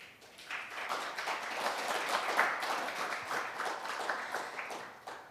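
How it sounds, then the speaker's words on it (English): Audience applause in a conference hall at a business forum, a sustained wash of many hands clapping that swells and holds steady for several seconds before thinning out. "Please give them another warm round of applause."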